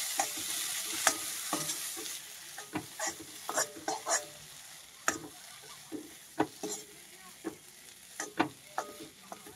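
Spices with chili powder sautéing in a pan, a faint steady sizzle broken by frequent scraping and tapping strokes of a spatula, close but quiet, with no voices.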